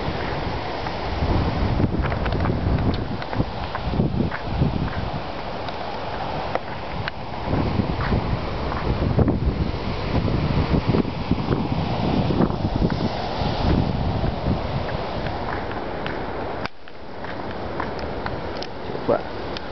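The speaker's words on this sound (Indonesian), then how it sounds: "Deh ombaknya." Ocean waves wash against the Gesing beach cliffs under strong, gusty wind that buffets the microphone, with a continuous rough roar and no clear pauses.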